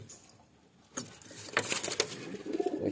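Pigeons in a coop, with faint rustling and a few soft coo-like calls and fluttering patters, moderately close, no talking.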